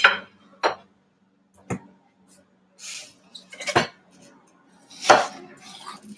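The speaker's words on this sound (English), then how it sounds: "Let me see if I can bring in my small cutting board." A small cutting board is set down for slicing watermelon, giving several separate sharp knocks and clatters against a hard surface, spaced out over a few seconds in a quiet room.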